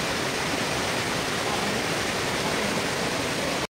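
A waterfall roars as a steady, broad rush of falling water, loud and unbroken, cutting off abruptly at the end.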